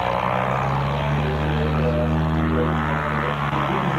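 Cub light propeller plane passing low over a 1982 fly-in, a steady droning engine buzz with a pitch that shifts gradually as it goes by, close and continuous.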